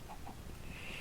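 A chicken in a mining video game gives a couple of faint, short clucks over a dense background of game noise.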